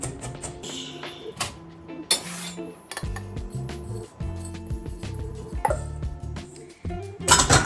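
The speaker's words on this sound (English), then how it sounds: "I'm gonna kind of crush up the rosemary chunks" Spices being mixed in a bowl with a utensil while rosemary chunks are crushed, giving scattered clinks, scrapes and gritty rustles, fairly quiet and irregular.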